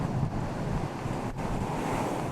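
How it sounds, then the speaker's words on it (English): Strong wind gusts of about 95 km/h roar over surf at Frankston Pier, a steady loud rush of wind noise and crashing water with no speech. "Frankston Pier snapped in half with wind gusts of 95 kilometres per hour"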